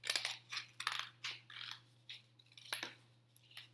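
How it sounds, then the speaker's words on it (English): Scissors cutting the center circle out of a paper plate, a quiet close run of crisp snips and papery crunches in uneven bursts, with no talking. "So I'm going to cut out the round circle in the center."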